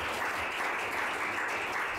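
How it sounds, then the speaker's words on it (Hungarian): Applause machine playing for an awards gala audience, a dense, steady wash of clapping at an even level throughout, with no distinct voices over it. "Szigorúan tapsgép a közönségnek"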